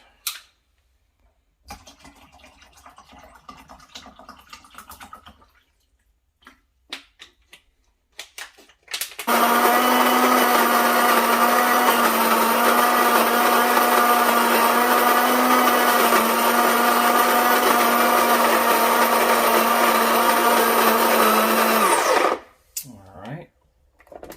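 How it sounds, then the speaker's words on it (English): An electric coffee grinder whirs loudly and steadily through a load of coffee beans for about thirteen seconds, then winds down. Soft handling clatter and a few quiet words come before it. "So now we're gonna get ready to grind some beans and try it out."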